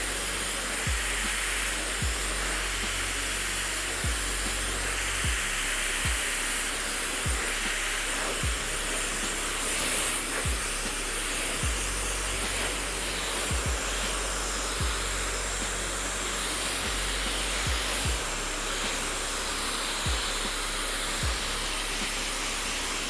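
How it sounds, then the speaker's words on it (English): Hair dryer blowing a steady, close airflow hiss while hair is dried with a round brush, with faint regular knocks and clicks from the brush and handling throughout; no talking. "I'm gonna grab that round brush, I'm gonna move that hair. Okay, and I'm just going to dry that hair."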